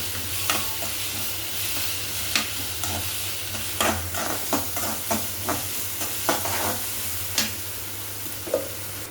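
Curry leaves fry in spicy Kerala chicken gravy, giving a continuous close sizzle and hiss with a low steady hum beneath and periodic scrapes and taps of a spoon stirring the pan.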